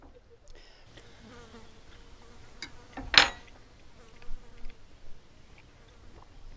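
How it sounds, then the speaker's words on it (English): Flies buzz faintly around Italian chicken cooked under a brick on a Weber Q grill outdoors, a soft, wavering hum with a brief clatter partway through. "The flies seem to like the smell of this."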